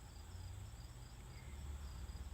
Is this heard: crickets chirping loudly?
yes